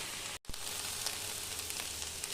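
A vegetable mixture fries in a pan with a steady, hissing sizzle, broken by one brief cut near the start before the even crackle resumes.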